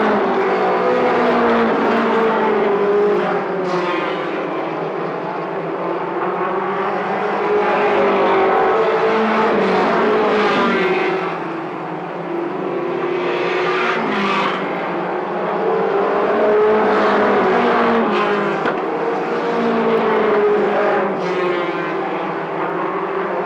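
Race cars roar around a track on lap 28 of a 50-lap Blowout feature, a continuous loud engine drone that rises and falls as the field passes, with no voices.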